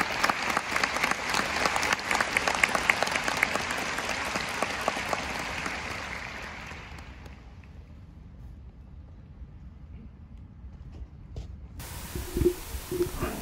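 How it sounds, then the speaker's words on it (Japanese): Large audience applauding at a Toyo University entrance ceremony for newly enrolled top athletes on stage, a loud sustained roar of clapping in a big hall that fades away over several seconds, leaving quiet room tone and a few stray sounds. "登壇したトップアスリートの新入生に盛大な拍手をお願いします。"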